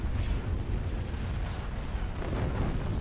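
Starship cannons in a Star Wars space battle video game fire as a dense, continuous rumbling barrage of muffled booms and bursts, steady in level throughout, with no voices.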